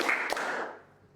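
Two hand claps from students in a classroom, a broad clap followed closely by a second sharper smack, then a quick fade, with no talking.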